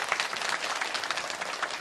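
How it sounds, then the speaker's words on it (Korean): A church congregation claps together in a continuous, even burst of applause for the middle and high school praise team, close and fairly loud with no talking over it. "우리 중고등부 박수합시다."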